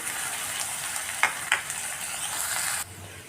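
Soaked toor dal sautés in a pan, a steady bright hiss of frying with two distinct spatula scrapes midway; the sizzle cuts off abruptly near the end.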